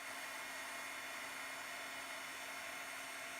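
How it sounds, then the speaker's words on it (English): A heat gun runs as a steady, close, even blowing hiss, melting embossing powder on heavy vellum cardstock with no pauses or voices. "or melting it rather with my heat gun."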